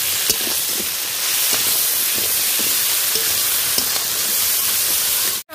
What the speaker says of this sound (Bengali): কাঁকড়াটা হালকা ভাজা হয়ে গেছে, লাল লাল হয়ে গেছে, এবার রসুন আদার বাটাটা দিয়ে দেবো